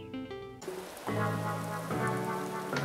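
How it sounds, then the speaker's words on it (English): Steady rain falls on an island in a video game, a dense continuous patter that runs the whole way through, with a tonal game sound fading in underneath. "it's still raining on the island"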